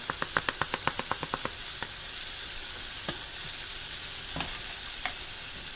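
Cumin dumped into a hot frying pan on a stove starts with a quick run of tapping knocks, then settles into a steady sizzle with occasional clinks.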